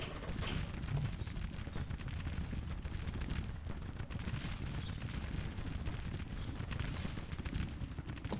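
Distant rolling musket and cannon fire from a Civil War battle video game, a dense continuous crackle of volleys with occasional sharper reports, no talk.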